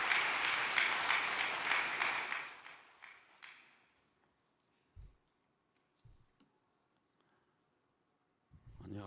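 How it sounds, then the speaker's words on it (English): Audience applause at a Cheonshim Won gathering, a dense clapping crowd that tapers off after about three seconds, followed by near silence broken by a few faint low thumps. "Round of applause."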